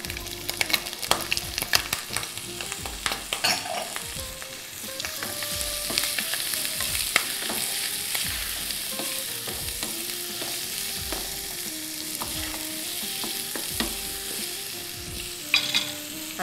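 Meat sautés with garlic in a pan, sizzling steadily under a scatter of clinks and stirring knocks from utensils, close and moderately loud, with no talking.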